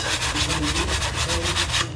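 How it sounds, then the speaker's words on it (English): A sanding block scrubs across textured plastic interior car trim in quick back-and-forth strokes, a close, rhythmic rasping with about a dozen even passes. "I'm going to take my sanding block here and I'm going to sand it so all that texture's gone"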